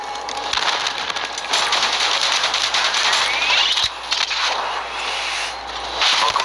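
Sustained rapid minigun fire in Call of Duty Black Ops 3, a dense loud rattling stream that runs nearly nonstop with brief dips, layered with game effects.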